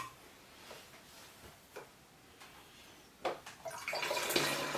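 Water is poured from a jug through a funnel into a plastic bottle to make a bird waterer. A few faint ticks give way to a steady, close splashing pour that grows louder over the last second and a half.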